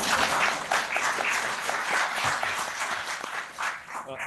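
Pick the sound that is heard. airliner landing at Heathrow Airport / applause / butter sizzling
applause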